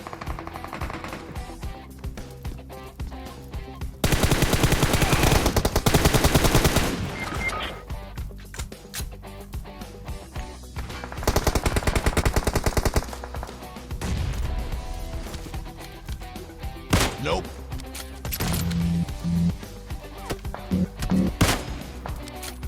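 Gunfire bursts in PUBG Mobile, loud dense volleys arriving in a few clusters with quieter game sounds and scattered shots between them.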